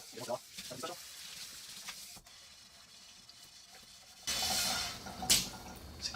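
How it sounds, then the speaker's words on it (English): Oily pan being cleaned with a Scrub Daddy sponge and water: quiet rubbing and wet sloshing at first, then a louder burst of running water and rough scrubbing near the end. "we're going to clean it with the Scrub Daddy and see how our results are"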